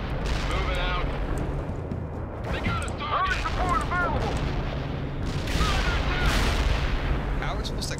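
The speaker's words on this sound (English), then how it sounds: "We set up a heavy fire support. Firing at coordinates." Heavy artillery fire support in the video game World in Conflict, a continuous rumbling barrage of booms and blasts under radio voices and talk throughout.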